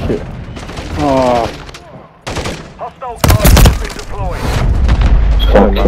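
Bursts of rapid gunfire and heavy booms erupt in Call of Duty MW3 as players shoot at a helicopter, loud and dense in the second half, with excited talking over the shooting.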